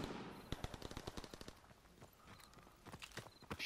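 M3 grease gun submachine gun firing in Call of Duty WWII, rapid bursts of sharp automatic shots that come in quick strings with brief gaps, crisp and moderately close, with no talk.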